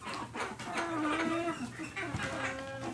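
Chickens cluck and murmur nearby, a scattered run of soft clucks and short calls overlapping one another.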